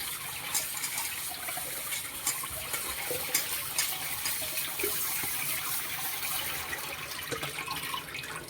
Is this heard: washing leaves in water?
yes